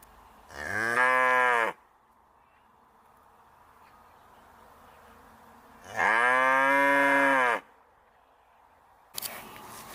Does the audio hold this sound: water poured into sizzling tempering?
no